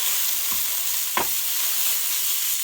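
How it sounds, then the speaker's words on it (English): Mushrooms, spinach and onions sizzling in avocado oil in a pan, a steady hissing fry throughout with a couple of soft stirring scrapes, close and fairly loud. "here we have our mushrooms, spinach, and onions stirring down to a wilt until it gets wilted"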